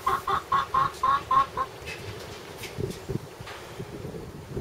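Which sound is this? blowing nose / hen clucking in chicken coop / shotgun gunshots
hen clucking in chicken coop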